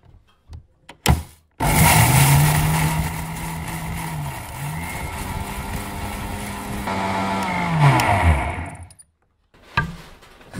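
A kitchen mixer grinder whirs loudly as it grinds spices into rasam powder, running steadily for several seconds with a shifting pitched motor whine, stopping once and restarting, then cutting off into quiet.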